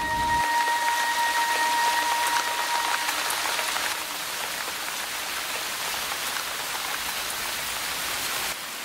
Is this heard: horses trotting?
no